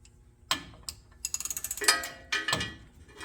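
Ratchet loosening the 24 mm drain plug on a 2000 first-generation Toyota Tundra differential: a sharp crack as the plug breaks free, then a quick run of rapid pawl clicks and a second burst, close and fairly loud.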